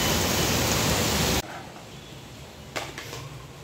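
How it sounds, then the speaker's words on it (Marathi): Heavy rain pours outside as a loud, dense hiss for over a second, then cuts to a much quieter, calmer interior background with a couple of brief soft knocks. "बाहेर खूप पाऊस पडतो"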